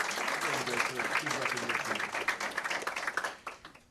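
Audience applause for an award recipient at a public school board meeting, steady clapping from a room of people with voices mixed in, fading out near the end.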